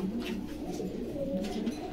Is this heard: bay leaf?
no